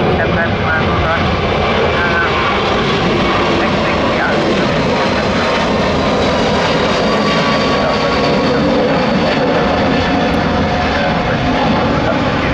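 A Turkish Airlines Airbus A321 doing a touch-and-go at Lisbon airport produces a loud, continuous jet engine roar that fills the whole stretch. Radio voices are heard beneath it.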